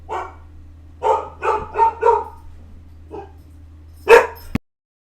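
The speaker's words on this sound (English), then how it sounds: "Is she going to stop barking?" A dog barks in a few short bursts, with a run of three to four quick barks in the middle and a sharper, louder bark near the end, heard alone over a steady low hum.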